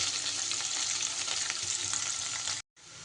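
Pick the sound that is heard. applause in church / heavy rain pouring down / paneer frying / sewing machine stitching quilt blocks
paneer frying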